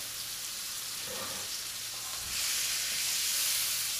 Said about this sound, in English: As you can see, already we're looking to just cook the outer rim of the beef. All we're doing is sealing it down.